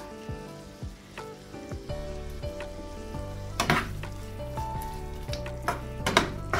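Half a cup of tomato sauce goes into a sizzling frying pan and is stirred. A steady close sizzle runs under repeated utensil scrapes and clinks against the pan, with a louder burst of spattering midway.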